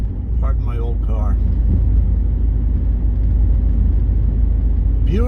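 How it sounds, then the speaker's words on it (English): An old car drives along a Manhattan street by Central Park on a sunny autumn day, its engine a steady low rumble close by throughout, with someone talking over it. "Pardon my old car."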